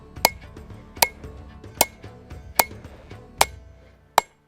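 A hammer strikes a hot steel Sgian dubh knife blade on an anvil while beveling the edge, six sharp ringing blows at an even pace, close and loud over a low background hum.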